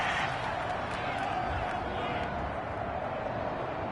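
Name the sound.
football video game stadium crowd reacting to a penalty call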